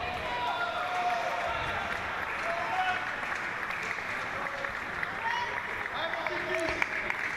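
A crowd applauds and cheers for a British player at a European para table tennis championship match, sustained clapping while a commentator talks over it.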